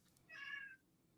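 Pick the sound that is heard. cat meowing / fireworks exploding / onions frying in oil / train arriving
cat meowing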